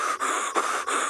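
A person imitates the heavy breathing of an aardvark with three quick, breathy rasping pants, close and loud, each separated by a short pause.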